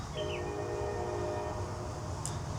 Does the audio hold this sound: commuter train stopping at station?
yes